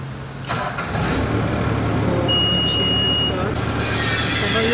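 Bobcat skid-steer loader engine starting up, a near idle settling into a steady low drone with a thin whine partway through.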